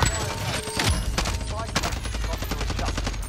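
Enemy gunfire during a quads tournament match in a shooter video game: a run of rapid cracking shots and bursts, at a fairly constant loudness throughout, with some voice activity mixed in.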